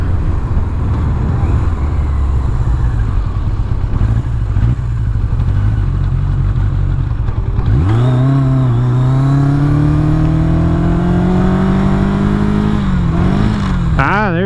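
A Yamaha XJ700 Maxim motorcycle rumbles steadily while riding, then revs up and accelerates hard with a rising engine whine through the gears, loud and close.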